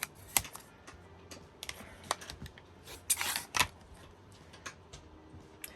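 Scissors or a rotary cutter trim a quarter-inch seam allowance on a quilt block with sashing, giving a series of short, crisp snips and clicks at an uneven pace, close and fairly quiet with no talking.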